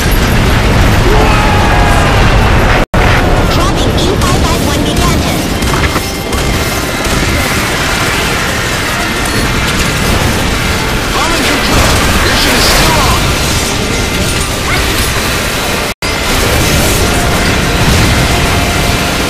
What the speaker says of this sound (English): This is artillery. Target confirmed.